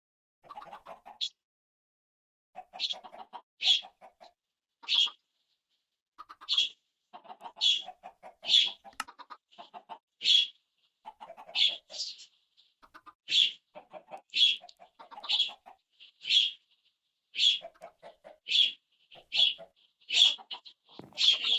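Chickens cluck repeatedly in the video game Minecraft: short, bright, clipped clucks in a steady, fairly regular rhythm over about twenty seconds. They are heard close and clear against a quiet background.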